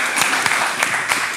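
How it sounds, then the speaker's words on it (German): Applause from a group of people at a Muay Thai gym, steady clapping that fills the whole moment without talk over it. "Applaus für Marco"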